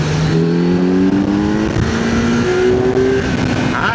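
A 2025 Kawasaki Z900 motorcycle engine revs hard through rising gear pitches, climbing, dropping and climbing again as it accelerates, roaring continuously close to the microphone.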